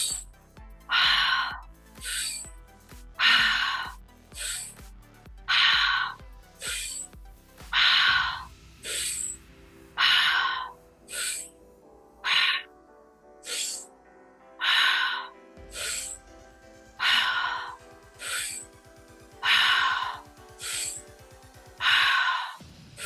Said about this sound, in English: breathing in through our nose, in through our mouth, out through our mouth, deep breaths in through the belly